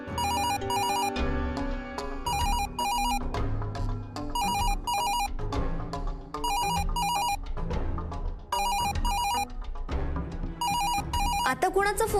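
A telephone rings repeatedly in a home during a family meal, bursts of bright electronic trilling in a regular pattern over a musical score for about twelve seconds, with voices faintly under it.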